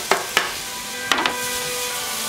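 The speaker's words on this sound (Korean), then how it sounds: "베이컨 투하는 거" Sliced bacon drops into a pan with other stir-fried ingredients for a bacon cream rice-cake dish, giving two sharp clatters, then a steady close sizzle with two more clinks as it is stirred.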